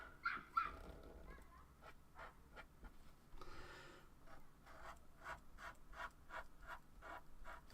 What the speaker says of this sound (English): I do apologise if you can hear a dog barking.